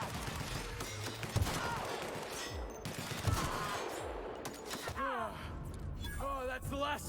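Gunfire in The Outer Worlds, an open-world sci-fi shooter, with dense rapid shots and bursts running under continuous game noise and overlapping talk.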